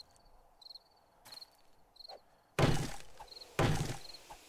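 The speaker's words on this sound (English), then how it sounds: "Go cut down a tree real quick." Heavy axe blows striking a tree in 7 Days to Die, two loud thunks a second apart after quieter taps and chirping ambient insects in the background.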